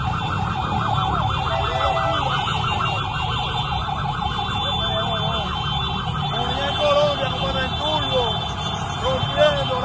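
Fire engine sirens wail continuously during a firefighters' welcome in Colombia, loud and close with wavering tones, under a busy crowd of voices and street noise throughout.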